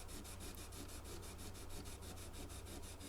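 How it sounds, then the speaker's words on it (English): A maroon Scotch-Brite pad rubs scratches out of guitar frets in quick, regular back-and-forth strokes, faint and close, with a soft, even scrubbing rhythm and no talking. "to get out the scratches from the sandpaper, I've got a maroon Scotch-Brite pad"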